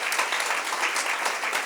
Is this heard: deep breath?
no